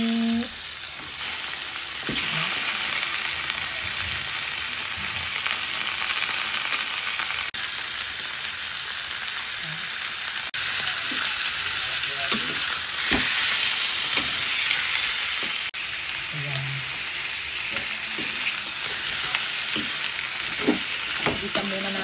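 Chicken wings frying in a pan with onion and garlic give a loud, steady sizzle that runs throughout, with occasional scrapes and knocks from stirring; no one talks.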